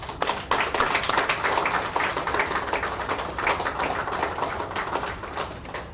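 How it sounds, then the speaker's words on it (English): An audience at a West Palm Beach city event gives a steady round of applause, dense clapping sustained throughout at moderate distance with no talk over it. "Please join me in giving them and the team with the city a round of applause"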